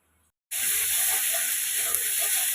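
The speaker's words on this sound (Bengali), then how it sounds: "এখন মশলাটাকে কষিয়ে নেব" Spice paste being cooked down in a pan: after a brief quiet start, a sudden loud, even hiss and sizzle begins and holds steady close up.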